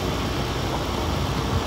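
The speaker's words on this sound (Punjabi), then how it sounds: "8 ਸਿਲੰਡਰ ਇੰਜਣ ਹੈ" A Swaraj 855 tractor modded with an eight-cylinder V8 engine runs steadily in Farming Simulator 19 while hauling heavy farm equipment, a constant low, dense engine drone with no talking.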